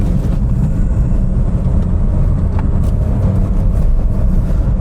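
A second-generation Suzuki Swift ZC71S, two-wheel drive, descending a winding hill road: a steady low engine and road rumble heard from inside the cabin, constant and fairly loud, with no voices.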